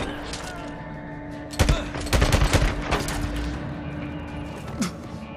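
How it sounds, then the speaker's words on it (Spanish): Gunfire in the video game Days Gone, a burst of several sharp close shots in quick succession over a low droning backdrop, with voices talking around it. "Ha habido varios disparos."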